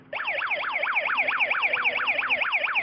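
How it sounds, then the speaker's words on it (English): A Snap Circuits electronic toy siren wails in quick repeating up-and-down sweeps, loud and close, starting abruptly and continuing steadily. "I'm going to flip the switch on, and a siren will sound."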